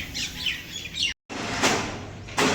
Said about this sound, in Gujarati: અને આ બાજુ ચકલાને સેવોને નાખી દીધી છે.